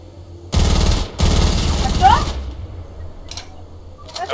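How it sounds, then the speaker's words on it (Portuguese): Rapid automatic gunfire in the video game Fortnite sounds as two loud, dense bursts split by a short gap, followed by a trailing whoosh and a few distant faint shots. "Alguém atirou em mim, snipou."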